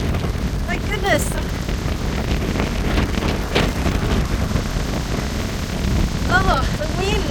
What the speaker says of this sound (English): Oh, the wind. It's so hot and windy.